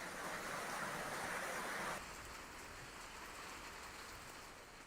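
Heavy unseasonal rain pours down in Pune, a dense, steady hiss of rain on surfaces that drops slightly in loudness partway through but continues without a break.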